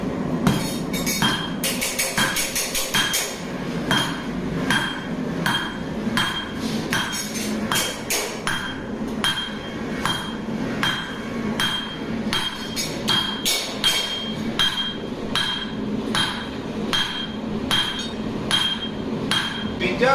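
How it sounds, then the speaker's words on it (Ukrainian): A hammer forges the end of a round steel bar on an anvil in a beginner's blacksmithing session, striking in a steady, ringing rhythm of sharp metallic blows for the whole stretch. "Тягнемо це біля краю, тому що молоток прилітає у такій нахиленій площині трошечки."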